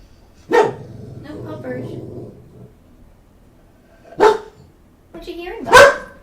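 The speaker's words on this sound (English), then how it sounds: "What are you barking about?" A dog barks indoors, a loud sharp bark followed by soft grumbling, then two more barks a few seconds later, close and clear in a quiet room.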